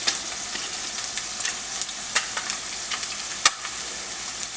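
Salmon fillet frying in a hot pan, a steady close sizzle with scattered sharp pops and spits of splattering fat, one louder crackle near the end.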